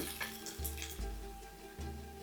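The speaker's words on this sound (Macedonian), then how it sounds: "И него ќе го оставиме малку подолго да ни се пржи." Onion frying in oil in a small pan, a soft continuous sizzle and crackle at low level, with faint low thumps and no voices.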